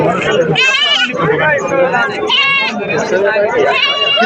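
Goats bleat loudly and repeatedly over a busy crowd at a livestock market in Shirur, Pune district, Maharashtra, with voices chattering all around.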